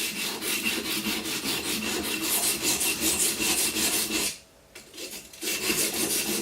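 A kitchen slicing knife rubbed along a sharpening surface gives a steady, loud rasping scrape in quick rhythmic strokes, briefly pausing once before resuming, with no voices.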